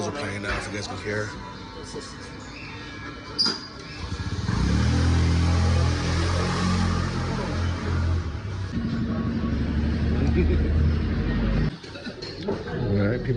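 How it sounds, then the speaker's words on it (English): Motorbikes pass back and forth along a street in Athens on a Sunday morning, a loud, steady engine rumble that swells and holds before cutting off briefly near the end, with someone talking over it. "these motorbike guys keep fucking driving back and forth still"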